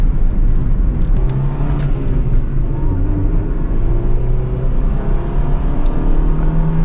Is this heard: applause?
no